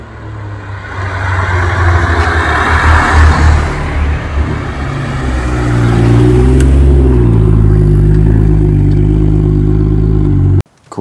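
BMW car approaching and driving up, its engine rising from a distance into a loud close roar with gear-like pitch shifts, then cutting off abruptly near the end.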